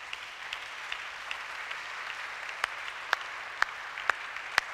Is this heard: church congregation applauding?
yes